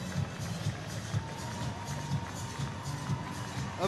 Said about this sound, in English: those of a dark blue persuasion applaud their heroes.